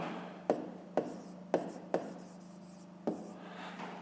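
Handwriting during a fifth-grade math exercise on fractions, with a series of sharp tapping strokes at uneven intervals over a faint steady hum. Speech is faint in the background.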